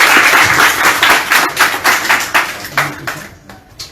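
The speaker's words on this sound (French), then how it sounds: "Applaudissements s'il vous plaît." An audience applauds at the end of a public meeting, a burst of clapping that thins out into scattered claps and fades over a few seconds.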